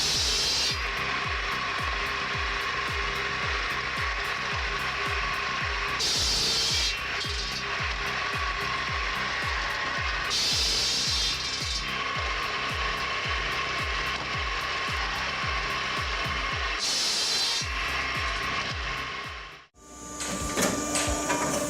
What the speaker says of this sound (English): helps feed wood into the saw blade efficiently